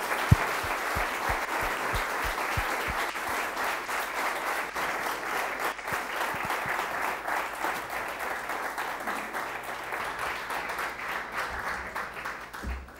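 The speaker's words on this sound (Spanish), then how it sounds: "gracias por el aplauso a Lolo Saiz." Audience applause after a speech about teamwork and victory, a dense, even clapping from a large crowd sustained throughout with a few sharper individual claps early on.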